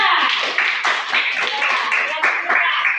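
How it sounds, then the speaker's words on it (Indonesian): Classroom clapping for a student group during a lesson, a quick burst of many hands slapping in an uneven rhythm, close and fairly loud throughout. "Tepuk tangan buat kelompok 2."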